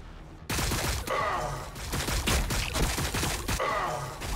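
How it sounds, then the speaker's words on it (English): Dense bursts of gunfire crackle in Warhammer 40K Battlesector, starting abruptly after a quiet moment and rattling loudly and continuously as overlapping volleys and automatic fire. "We are taking fire."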